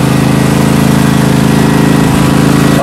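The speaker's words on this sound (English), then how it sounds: "I've got a 42-inch mower here." The engine of a 42-inch Toro lawn mower runs close and very loud, holding a steady, throbbing drone from start to finish with no pauses.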